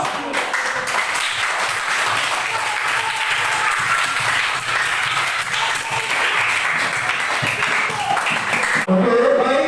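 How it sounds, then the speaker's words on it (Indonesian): A room full of people applauding after a group presentation in a class session, dense sustained clapping that fills nearly the whole stretch and then stops abruptly near the end. "Aplaus."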